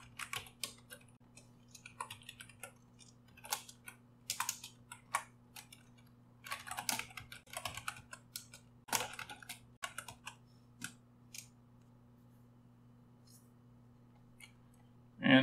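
Rapid, irregular clicking of a computer keyboard as code is typed, bursts of keystrokes with short pauses over a steady low hum, ending in a louder clatter.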